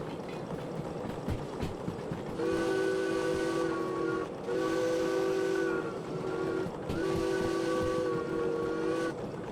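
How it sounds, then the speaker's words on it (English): A locomotive in the train simulator Derail Valley rolls along with a steady rumble while its whistle sounds in three long, loud blasts separated by short gaps. "So keep the train nice and slow and steady, and we'll watch for our signal."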